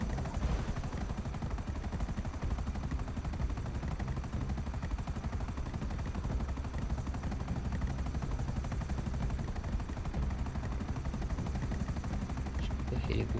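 Helicopter rotor drone with bursts of gunfire during a casino heist mission in the video game GTA Online, a steady loud thrum throughout with dense overlapping noise and occasional voices.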